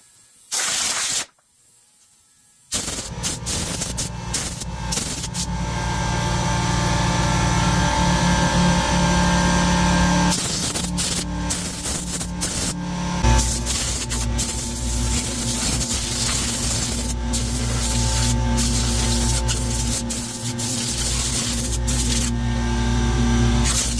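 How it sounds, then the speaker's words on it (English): Compressed air blasts steadily through an old push mower to blow off cobwebs and dirt, a loud continuous hiss after a brief start, running nearly unbroken with small shifts in pressure. "We're going to use the compressed air and just get all the cobwebs and shit out of this."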